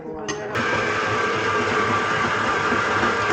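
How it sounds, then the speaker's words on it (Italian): A dough mixer on a farm starts up abruptly and settles into a constant, loud mechanical whir and hum that runs unbroken to the end, with some talk underneath. "Il rumore che sentite è l'impastatrice."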